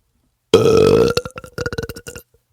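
A long, loud, wet belch used as a sound effect, one sustained gurgling burp that breaks into a rapid rattling string of bubbly pops before trailing off, heard alone.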